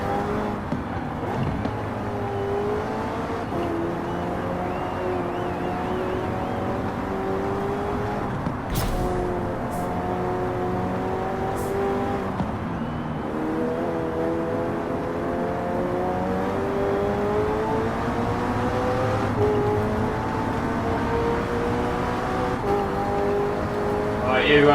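A McLaren 600LT at full throttle in Forza Horizon 4, played on a steering wheel: a loud, continuous engine roar with rising and falling revs and brief shift breaks, lasting the whole stretch.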